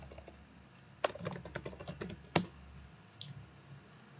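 Quick bursts of typing on a computer keyboard, close and fairly quiet, with clustered key clicks and a couple of sharper heavy keystrokes in a calm room.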